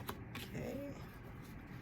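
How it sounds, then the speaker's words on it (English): Tarot cards shuffled by hand, a faint papery riffle and shuffle in a quiet room with low background hum. "I'm just going to shuffle now for the cards to flip out"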